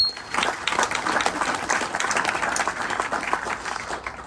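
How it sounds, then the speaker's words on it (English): A wedding reception audience applauds during a best man speech, producing steady, moderately loud clapping from many hands with no voices over it. "can we get a round of applause for that, please?"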